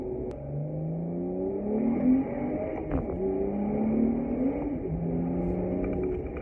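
A BMW F30 335i with a six-speed manual gearbox drives and downshifts, its engine note rising and falling in repeated revving sweeps as gears change, heard from inside the car with steady road noise and no talk.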